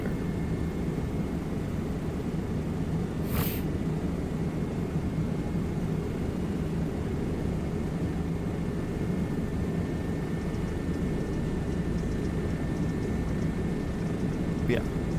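An aerobatic helicopter in flight gives a steady, unbroken rotor and engine drone throughout, with a brief higher whine rising once near the start.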